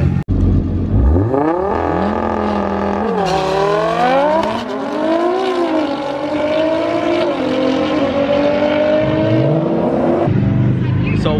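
A Subaru BRZ at a race track accelerates through the gears, its engine note rising and falling in sweeping revs as it passes, loud and continuous with shifts and throttle lifts.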